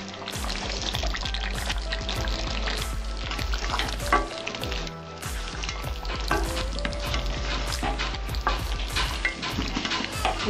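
Green chillies fry in hot oil in a pan for a Bengali-style yogurt chicken curry, producing loud, dense spitting and crackling with rapid pops throughout, close up and without speech.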